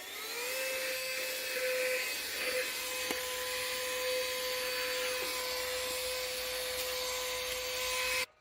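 An XREXS portable car vacuum cleaner runs continuously near the listener, a steady motor whine with an airy suction rush that holds level throughout and cuts off abruptly at the end.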